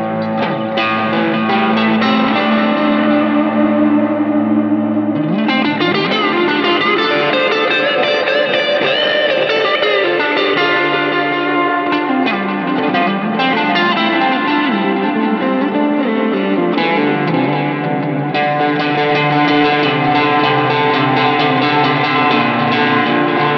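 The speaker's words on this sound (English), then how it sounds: "So the Zen drive sounds like this." Electric guitar played through a Line 6 POD Go using a Hanna drive overdrive emulating a Zen Drive, heard alone as sustained distorted chords and melodic lines with chorus and echo washing into a loud, continuous ambient texture.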